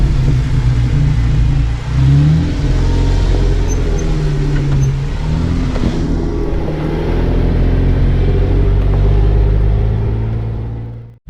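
A vehicle engine drones and revs steadily while climbing a steep trail near Margaret Lake, with deep rumbling and shifting pitch lasting throughout, loud and close, no talking.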